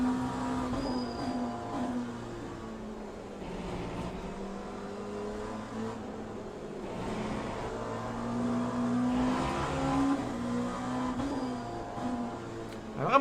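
LMP2 prototype race car engine in Le Mans Ultimate, a steady droning tone with shifting pitch as revs rise and fall through gear changes, continuous and fairly close, no voices.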